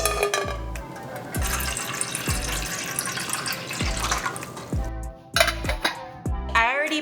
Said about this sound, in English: we're gonna add 500 mils of water to our pot and get it to a boil first